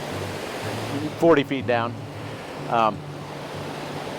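Heavy water rushes steadily down a river in Baxter State Park in fall, a constant broad roar heard from above, with someone speaking briefly over it.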